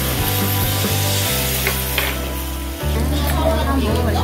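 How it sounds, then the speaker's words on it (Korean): Meat sizzling on a hot grill plate at a steakhouse, a close, steady crackling hiss with a low hum and faint clatter beneath, no speech. "그거를 이제 불판에다 넣고 익혀 먹는 거야"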